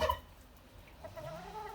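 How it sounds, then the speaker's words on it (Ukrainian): A young Barbezieux hen in a mixed farmyard flock gives soft, low clucks, with a brief louder burst at the start and quieter murmuring calls after, close by and alone. "Ось молоденька курочка барбаз'є"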